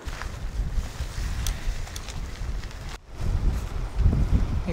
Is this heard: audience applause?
no